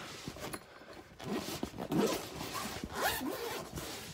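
A zipper on a Toyota 4Runner emergency compressor kit bag is pulled open in several short, close rasping strokes, quiet and alone with no talk.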